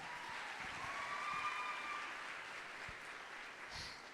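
Students at a college orientation give themselves a round of applause, a fairly faint, even wash of clapping across the room with no voices over it.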